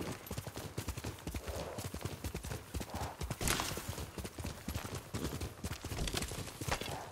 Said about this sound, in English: Good horse, Nobu.